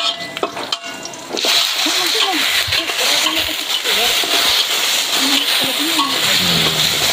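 Pieces of yellow pumpkin tipped into a hot cooking pan, setting off a steady loud sizzle and frying crackle with light splatter and stirring knocks throughout.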